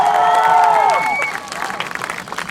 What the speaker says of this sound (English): Everybody give these two a big round of applause